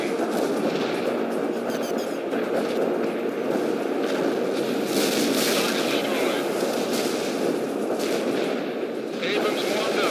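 Heavy artillery fire in the real-time strategy game World in Conflict, a dense, continuous roar of booming shots and rumbling blasts with no letup, while terse radio-style voice lines speak over the barrage.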